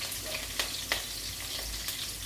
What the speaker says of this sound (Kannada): ಮೆಣಸಿನ್ಕಾಯಿ ಆದಷ್ಟು ಖಾರ ಎಲ್ಲ ನೀಟಾಗಿ ಫ್ರೈ ಆಗಬೇಕು, ಹಾಗಾಗಿ ಖಾರ ಎಲ್ಲ ಹೋಗ್ಬೇಕಂದ್ರೆ ಎಣ್ಣೆ ಚೆನ್ನಾಗಿ ಫ್ರೈ ಆಗಬೇಕು.